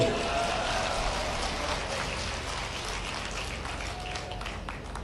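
A large crowd of farmers at an outdoor thanksgiving gathering claps continuously, a dense, steady patter that holds at a fairly loud level and eases slightly toward the end.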